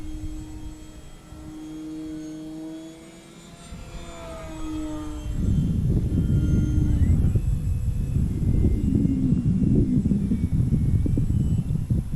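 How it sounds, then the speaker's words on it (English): A small E-flite Maule model plane's motor, which has an intermittent power loss, whines with rising and falling pitch, then shifts into a louder, rougher buzzing roar that continues steadily. "This is a very fun little plane."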